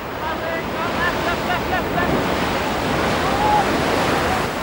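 Ocean surf rolls and washes continuously while someone waits to catch a wave, a broad steady roar of breaking water with wind buffeting the microphone, no voices.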